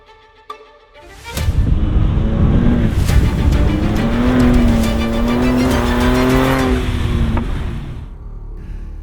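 A 2024 Ford Ranger Raptor pickup's 3-liter twin-turbo V6 roars up loudly and holds a strong, steady drone for several seconds before easing off, with a rising and falling whine over the rumble.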